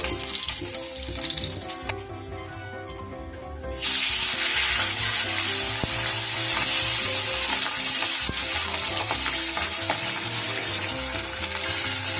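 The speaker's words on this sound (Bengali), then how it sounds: "এই মাছগুলো আমার ভাজা হয়ে গেছে, এগুলো এবার তুলে নেব।" Tyangra fish frying in hot oil, a steady dense sizzle that drops low for a moment near the start, then returns loud and constant at close range with faint clatter underneath.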